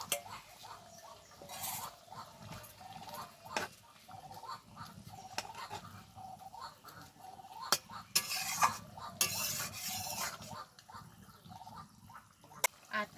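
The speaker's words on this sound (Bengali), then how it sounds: "এবার দিয়ে দেবো ভেজে রাখা বেলে মাছ।" Fried bele fish going into a simmering curry with eggplant, heard as quiet bubbling with scattered clinks and scrapes of a utensil against the pot, plus a couple of brief bursts of louder hiss and splash.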